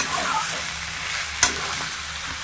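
Spiced food is fried and stirred in a pan while it browns, giving a steady loud sizzle with scraping stirs and one sharp utensil clink partway through.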